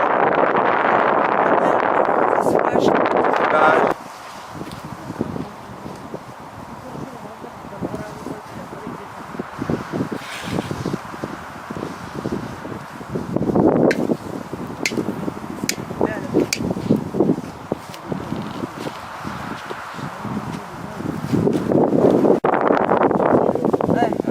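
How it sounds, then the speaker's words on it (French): Gusty wind buffets the microphone in loud rumbling bursts, easing and rising again, with people talking intermittently underneath. "il y a du vent"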